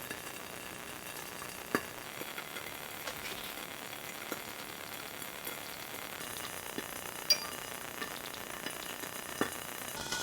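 Stocked trout frying skin side down in a covered pan gives a soft, steady sizzle with occasional faint ticks and pops, with no talk.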